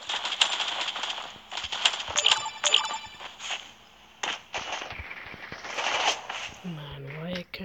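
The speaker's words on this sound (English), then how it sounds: "They're shooting." Rapid gunfire in the video game Creative Destruction, crackling bursts of shots that repeat densely through the clip, loud and close, with game effects and a voice speaking over parts of it.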